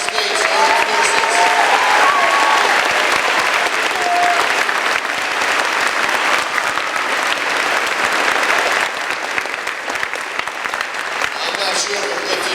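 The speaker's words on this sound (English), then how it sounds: "One more time, a big round of applause for all our United States Armed Forces." Loud, sustained applause from a large crowd filling a school gymnasium at a middle school Veterans Day ceremony, dense and continuous for several seconds, with some voices mixed in.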